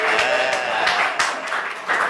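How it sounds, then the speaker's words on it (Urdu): An audience at a public meeting applauds in a dense, loud burst of clapping that lasts the whole moment, with a voice faintly underneath. "پیچھے تالیہ."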